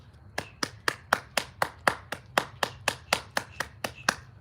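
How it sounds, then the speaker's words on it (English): One person claps steadily, about fifteen sharp, evenly spaced claps close by and fairly quiet, with no crowd joining in. "Get our brother a round of applause"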